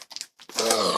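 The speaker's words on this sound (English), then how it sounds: "Let's just cut into the cardboard." A blade cuts into a taped cardboard mailer holding comic books, heard as a couple of short close crunches followed by a sustained, rough tearing scrape.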